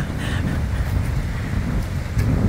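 Heavy rain falls steadily, a dense, continuous hiss mixed with rushing wind noise, heard outdoors during a wet cycling trip in Korea.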